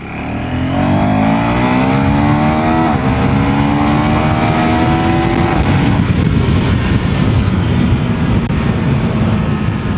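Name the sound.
KTM Duke 390 motorcycle accelerating in second gear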